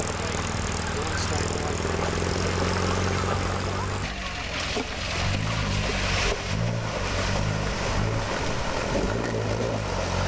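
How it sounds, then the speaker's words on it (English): MG T-type vintage car from the 1950s splashing through a river crossing on a rally, engine rumbling under a heavy rush of churning water, loud and close, with a voice speaking over the scene. "Most T-types seem to do the river crossing with no trouble at all."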